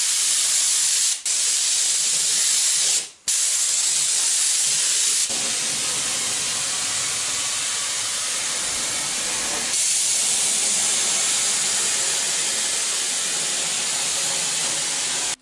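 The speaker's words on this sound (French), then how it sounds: "tout de suite une première couche de peinture d'après garnissant" An air spray gun hisses long and steady while applying primer to the wheel rims of a Citroën Traction 11B, with two brief breaks early on, close and loud without talk.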